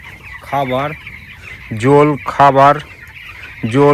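Fifteen-day-old chickens on a village poultry farm cluck loudly and close by in repeated bursts of harsh, rising calls separated by short gaps.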